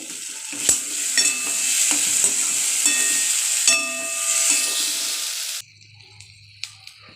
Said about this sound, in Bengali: আলুগুলো দিয়েও কষাবো